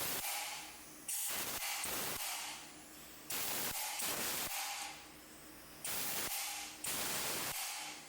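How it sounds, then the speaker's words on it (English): Compressed air sprays in bursts into a blown BMW M50 engine's cylinder head, four loud hissing blasts with short pauses between, close and harsh. "I'm gonna come in and spray some compressed air in here"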